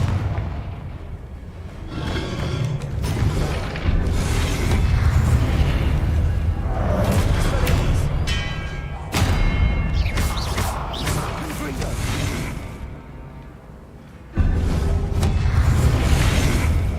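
Loud, dense bursts of magical spell blasts and explosive booms from combat in Hogwarts Legacy, with sharp cracks and rumbling impacts recurring throughout, including Confringo fire-blast spells, under game music.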